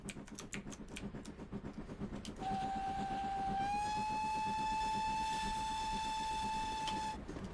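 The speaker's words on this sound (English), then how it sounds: "Big loud whistle, and there we go through the station" A loud, sustained steam locomotive whistle in a train simulator game sounds over rhythmic chugging, the whistle shifting slightly in pitch before cutting off.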